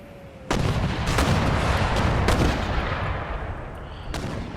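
Artillery cannon fire in the Napoleonic-era strategy game Total War: Empire during a siege, with heavy booming shots repeating at irregular intervals over a dense, continuous roar of battle.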